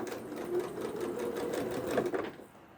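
Sewing machine stitching a small quilt block, a steady, close mechanical whir with rapid needle pulses running almost three seconds before easing off at the end.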